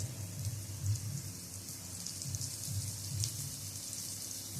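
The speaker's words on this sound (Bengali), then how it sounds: "সমস্ত ফুলকপি তুলে নেওয়ার পরে এই তেলের মধ্যে দিয়ে দিচ্ছি পেঁয়াজ কুচিটা" Chopped onion sizzles in hot oil left in the pan after frying cauliflower, giving a steady, fairly quiet crackling hiss that carries on evenly with no talking.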